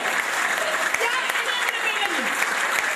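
A church congregation claps together during a sermon, a dense, continuous burst of applause filling the room, loud and close, with crowd voices mixed in.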